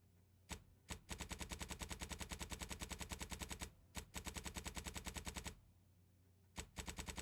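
Heavy automatic gunfire in The Outer Worlds 2, sustained bursts of rapid shots with brief pauses between them, loud and close with no talking.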